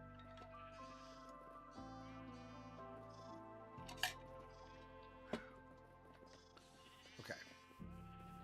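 Sheep bleat in Minecraft, a few short game bleats rising over steady background music with sharp pops near the middle, the animal calls soft and intermittent rather than prominent.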